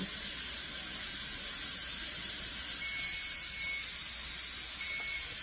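Steam venting from a pressure canner as the weight is set in place, a steady loud hiss that stays constant across the whole clip, with a faint whistling tone appearing now and then.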